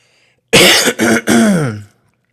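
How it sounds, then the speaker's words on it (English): Three loud, harsh coughs in quick succession, close by, with the last one trailing off into a lower, rasping throat sound. "I don't know why this cough is coming back."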